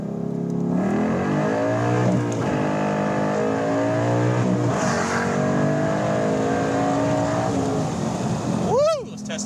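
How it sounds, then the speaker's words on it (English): A 2013 Ford Mustang Boss 302 accelerates hard at Laguna Seca, its engine climbing through the revs in one long, loud pull with rising harmonics and a gear change near the end, heard from close by. "All right, let's test out the acceleration."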